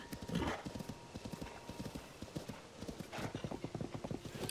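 Rapid rhythmic hoofbeats of a galloping horse in The Legend of Zelda: Tears of the Kingdom, close and steady, with a loud neigh at the start and another whinny near the end.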